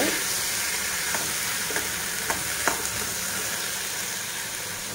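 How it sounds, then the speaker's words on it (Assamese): Boiled chickpea dal frying in a hot pan gives a loud, continuous sizzle with a few soft clicks of stirring scattered through, close up and without speech. "এয়া বুটৰ দালিখিনি বইল কৰা ইয়াত দি ভাজি আছোঁ"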